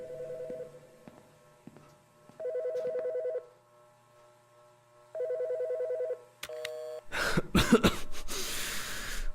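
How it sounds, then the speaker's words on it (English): Telephone in the video game Autopsy Simulator ringing in repeated electronic bursts, three clear rings separated by pauses with a faint cough, then a clattering pickup and noise at the end. "Phone."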